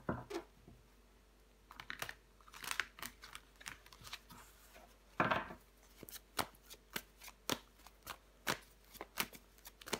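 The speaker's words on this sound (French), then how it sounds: "On va recouvrir des cartes." Tarot cards being handled and turned over on a table, quiet isolated flicks and soft taps in an irregular rhythm, with one longer shuffling rustle midway and no speech.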